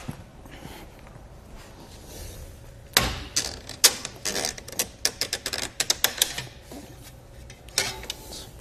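Strap tab on a Hollywood Racks Destination four-bike rack fitted to a 2019 vehicle being pushed down and the wheel strap pulled free: a quick run of sharp plastic clicks and ratcheting rattles, close and fairly quiet, with no one talking.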